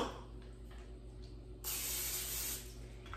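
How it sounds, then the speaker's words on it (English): A close aerosol of nonstick cooking spray hisses into an air fryer basket in one long steady burst after a quieter stretch of soft room noise. "start by spraying the air fryer basket with a nonstick cooking"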